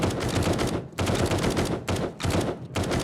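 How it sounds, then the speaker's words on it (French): Rapid automatic gunfire in a video game, loud close bursts with brief gaps between volleys and no talking. "Le mec en dernier qui tire derrière toi!"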